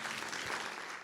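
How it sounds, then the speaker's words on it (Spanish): A church congregation claps together in a dense, steady round of applause, a short burst heard up close. "¿Cuántos le dan un aplauso al Señor por esa verdad?"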